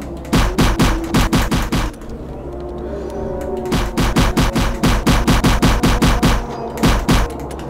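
Rapid bursts of gunfire aimed at zombies in the VR shooter Fovos, loud close volleys of repeated shots with a short lull in the middle before the firing resumes in quick rhythmic strings.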